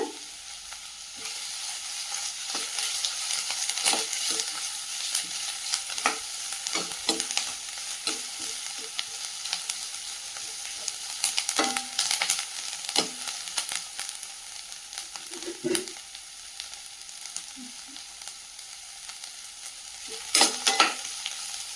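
Two sprigs of curry leaves frying in oil for green chicken kulambu, a steady crackling sizzle throughout with repeated scraping knocks of a spoon stirring the pan, close and moderately loud, no talking.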